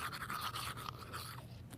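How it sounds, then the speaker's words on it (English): Someone brushes their teeth with a toothbrush, quick repeated scrubbing strokes in a bristly rhythm, fairly close and faint, with a brief pause near the end. "He's brushing his teeth"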